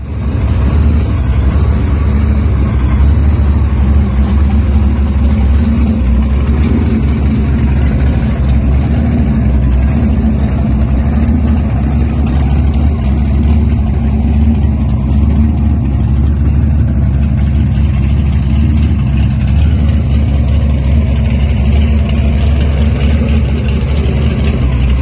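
A supercharged, blown LX car engine rumbles loudly at close range, a deep lumpy idle with swells of revving throughout and no voices over it.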